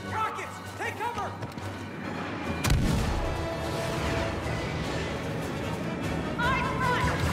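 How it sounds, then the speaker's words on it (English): Rocket fire and explosions crash through a Star Wars Battlefront II battle, with a sharp, loud blast about midway followed by sustained rumbling gunfire and booms. Voices speak over the combat noise. "Rockets, take cover!"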